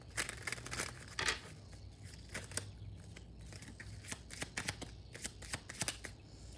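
Tarot cards are shuffled and drawn in a run of quick, crisp papery riffles and flicks, close and fairly quiet, with no voices.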